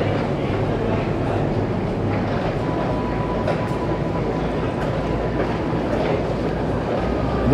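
A Moscow Metro train runs underground with a loud, continuous rumble and faint rhythmic clatter of wheels on track, steady from start to finish.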